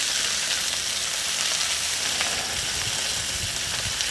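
Thick steak sears in a hot pan, a steady broadband sizzle holding at even loudness throughout with faint crackles and no voices.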